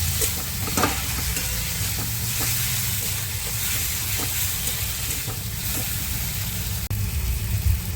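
Prawns with chilli paste stirred and fried in a pan, a steady loud sizzle running throughout with repeated clinks and scrapes of the stirring utensil, close up and with no talk.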